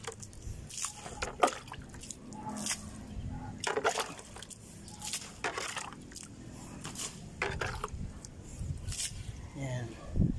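Water splashes and drips onto a freshly poured concrete slab that is still curing, with irregular wet slaps and trickles and a voice talking in between.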